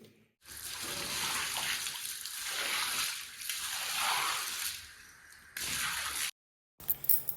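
Water is poured over muddy slippers to rinse them clean, several splashing, squishing pours separated by short pauses, close and alone.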